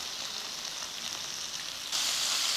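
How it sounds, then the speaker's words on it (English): Oil sizzles and fries steadily in a pan as chicken cooks, a dense continuous crackle that swells louder near the end, with no talking. "You can see that it's getting fried quicker."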